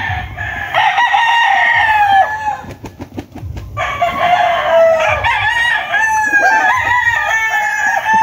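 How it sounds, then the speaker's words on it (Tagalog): Several roosters crow loudly and repeatedly close by on a Philippine poultry farm with young stags, while hens cluck between the calls. "Mga manok-manok nila dito."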